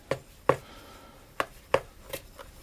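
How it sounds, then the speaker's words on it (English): Almond cookie dough for pistachio-topped cookies stirred in a bowl, a handful of sharp separate knocks of spoon against the bowl at irregular intervals, close and clear with no talk. "And I'm going to start to stir that around."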